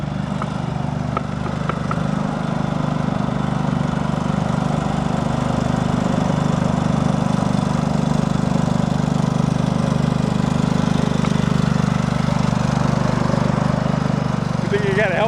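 A Craftsman lawn tractor engine drones at high, steady revs throughout, loud and close with a constant mechanical roar and little variation.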